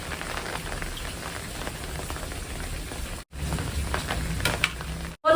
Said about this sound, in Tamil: கொஞ்ச நேரம் மழை பெய்யுது கொஞ்ச நேரம் மழை விழுது